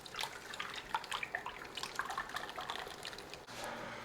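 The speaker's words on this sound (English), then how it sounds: "We're going to pour it in the casserole." Biscuit pudding batter is poured from a bowl into a greased casserole dish, making a soft, wet trickling and splashing for a few seconds, faint and close, with no voices.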